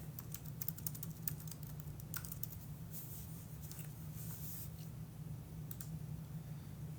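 Rapid keystrokes clatter on a computer keyboard in quick bursts with short pauses, close but quiet over a low steady hum, with no one speaking.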